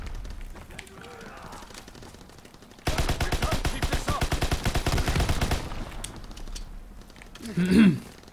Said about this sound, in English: Love the grease gun. It's a beastly gun.